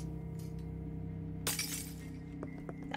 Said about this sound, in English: That's a shattering noise.